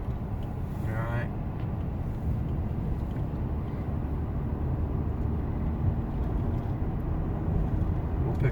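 A 2015 Ford Mustang GT race car on an SCCA training run sends up a steady, rumbling engine and road roar from inside the cabin as it picks up speed, with voices talking over the noise.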